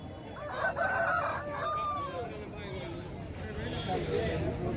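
A rooster crows at a busy hen and rooster market in Kothagudem, Bhadradri, its drawn-out call rising clearly over a steady hubbub of voices and bargaining chatter.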